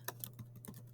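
Quick keystrokes on a computer keyboard, a handful of sharp clicks in about a second, close by over a steady low hum.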